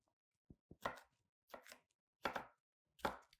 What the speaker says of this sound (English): try and cut your veggies all the same size, bite size